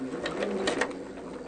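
A sewing machine stitches a quilt in a short, steady mechanical whir with a faint rhythmic needle patter, close by, with no talking.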